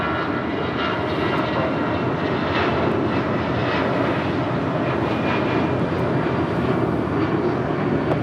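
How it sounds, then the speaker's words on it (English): An American Airlines Airbus A319 jet departs LAX with a loud, continuous engine roar and rumble, close and steady throughout with faint whining tones on top and no voices. "Next departure is American Airlines Flight 2546, coming in from, or heading to Mexico City. It's an A319."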